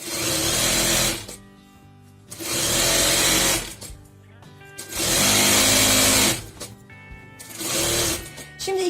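A sewing machine stitching a skirt waistband runs in four loud, steady bursts, each about a second or more, separated by brief quiet pauses for repositioning the fabric.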